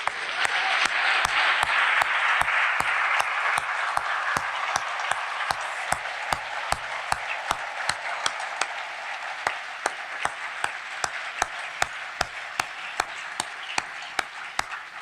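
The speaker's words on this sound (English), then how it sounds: "That's worthy of applause indeed." Audience applause at a community foundation's annual meeting, sustained even clapping from a room full of people, with a few sharp louder claps standing out near the microphone throughout.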